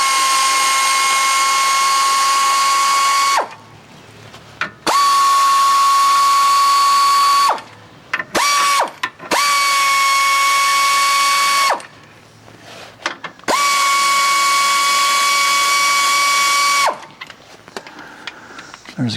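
Power tool whines in loud, sustained bursts as it runs up bolts on a 2008 VW Mk5 GTI subframe motor mount, several long runs broken by short pauses and brief ratcheting blips.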